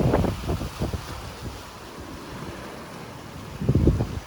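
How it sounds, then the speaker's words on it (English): Ocean waves break and surge in front of an oceanfront resort on Maui while gusty wind buffets the microphone, with bursts of surf at the start and a louder crash near the end. "There's some more waves coming."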